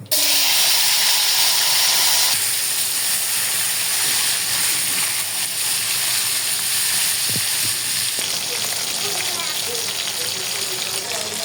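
Fish fries in hot oil with a loud, constant sizzle and hiss close by, steady for the whole stretch and settling slightly quieter after the first couple of seconds.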